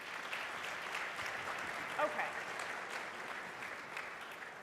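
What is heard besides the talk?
audience applause at conference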